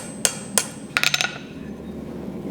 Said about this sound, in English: Now for a final straighten, I'm going to hit it slightly.